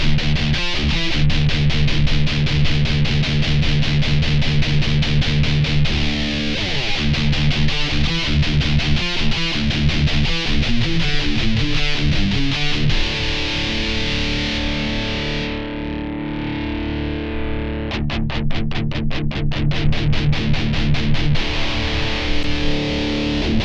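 Distorted electric guitar played through a Blackstar ID:Core40 V4 modeling combo amp, loud rhythmic chugging riffs and sustained chords with a brief pause before the strumming resumes, played alone.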